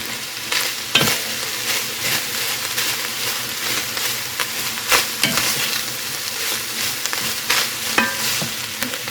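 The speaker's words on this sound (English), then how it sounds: "Next we're going to add 1 bag of shredded cabbage" A bag of shredded angel hair cabbage hits a hot frying pan with beef, giving a steady loud sizzle broken by repeated stirring scrapes, close and with no talking.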